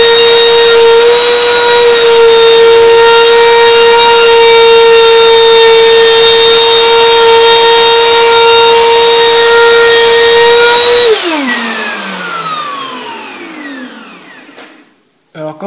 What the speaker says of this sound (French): Donc là je fais ma dernière passe pour le tour et on y va